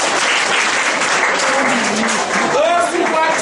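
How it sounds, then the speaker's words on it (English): Students at a cancer outreach event at Summerset College in Buea, Cameroon, clap loudly and steadily throughout, with voices and cheers mixed into the applause. "Can we give her a clap?"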